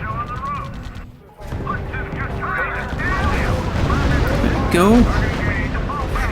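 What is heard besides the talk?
heavy gunfire and artillery in video game RUSE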